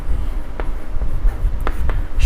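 Marker or chalk writing on a board during a Hindi-language maths lesson, heard as a few short scratchy strokes spread over a couple of seconds over a steady low room hum.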